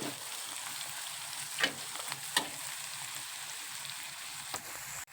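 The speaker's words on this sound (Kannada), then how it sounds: "ನೋಡಿ ಈಗ ಎಣ್ಣೆಗೆಲ್ಲ ಕುದಿಯಾಗತ್ತವು" Oil bubbling in a frying pan with a mixed spice paste and dry chilli powder: a close, steady sizzle with a few soft stirring taps and no talking.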